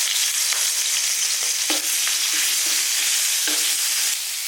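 Doubanjiang chili bean paste with scallion, ginger and garlic stir-frying in hot oil, a steady bright sizzle with occasional stirring scrapes, close and continuous with no talking.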